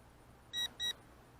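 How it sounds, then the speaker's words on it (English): Two short, high electronic beeps in quick succession, clear and close against a quiet background: an Eachine 511S GPS drone's altitude warning when flown too high, around 80 meters. "it gave you a beep when it's up too high"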